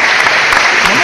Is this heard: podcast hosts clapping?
yes